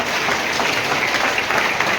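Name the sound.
audience applause welcoming guests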